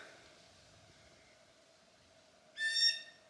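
A hawk's plaintive call rings out once near the end by a lake, a short clear harmonic cry above a faint steady hum and quiet background.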